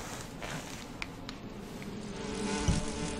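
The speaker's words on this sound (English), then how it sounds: "Fucking bees, man." Bees buzz softly and steadily around the player in the video game Metal Gear Solid 3, a faint insect drone with a few brief louder passes and a low thump near the end.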